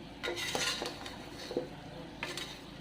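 Metal utensils scrape and clink against a pot in irregular strokes, with a soft sizzle of chicken frying in oil underneath.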